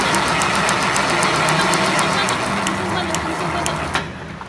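A plastic film toothpick packaging machine runs steadily with a dense mechanical hum and regular rapid clicking, loud and continuous for about four seconds before cutting out near the end.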